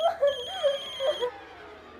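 A telephone rings in a tense indoor domestic scene from a Hindi television drama, repeated electronic ringtone pulses near and clear, with a brief voice at the end.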